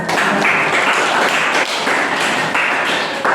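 A classroom full of Indonesian students claps together for several seconds, a dense, steady patter of hands that holds an even loudness from start to finish, with no voices standing out.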